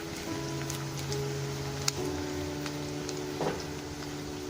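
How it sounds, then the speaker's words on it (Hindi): Sliced onion fries in hot oil in a home kitchen, a faint steady sizzle and crackle with occasional louder pops, low and continuous without speech. "इसको फ्राई करते हैं"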